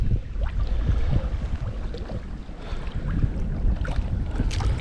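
Gusty wind roars across a microphone on a kayak on a lake, with low rumbling buffets and faint water sloshes. The loud, broad noise continues throughout.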